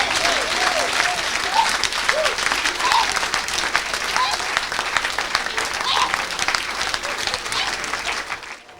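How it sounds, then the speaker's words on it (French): A church congregation claps and cheers loudly for the Lord during a worship service, dense sustained applause with whoops and voices filling the whole stretch before fading at the very end. "Acclame très fort pour le Seigneur."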